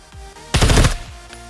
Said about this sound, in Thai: โอเคผมลองยิงผ่านตู้นะ